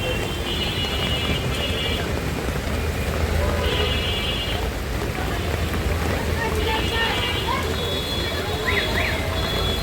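Heavy downpour on a Dhaka street near a flower shop, a dense continuous hiss of rain and splashing with wind buffeting the microphone, traffic passing and a person talking over it.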